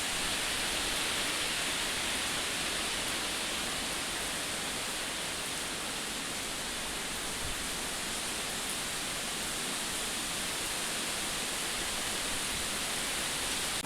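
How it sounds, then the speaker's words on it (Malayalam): Strong wind with light rain sweeps across an outdoor setting, a steady, dense rushing hiss that holds constant throughout with no voices. "ഒടുക്കത്തെ കാറ്റും മഴയും കേസ്"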